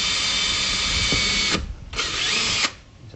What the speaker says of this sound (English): And then you can drill your pilot hole